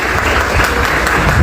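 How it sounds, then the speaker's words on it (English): An audience at an exhibition and prize distribution ceremony gives a loud, continuous round of clapping for the students, dense and close throughout. "So one round of applause to these kids"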